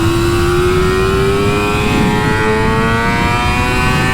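A 2018 Yamaha YZF-R6 sport bike screams on a race track, its engine holding a loud, high-pitched wail that climbs steadily in pitch as it revs hard through the gear.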